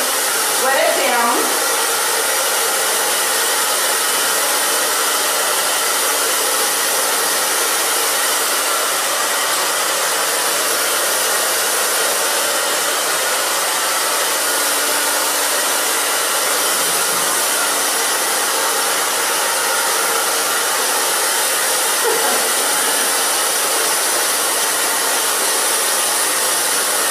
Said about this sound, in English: now what I'm going to do is just dry this a tiny bit where I wet it down